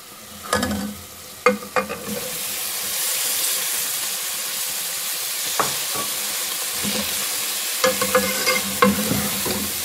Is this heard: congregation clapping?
no